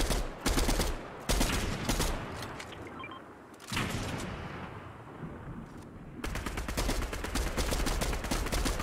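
Rapid bursts of automatic gunfire in Fortnite, sharp and loud, with a brief lull and quieter rumbling before the shooting resumes in steady, dense volleys.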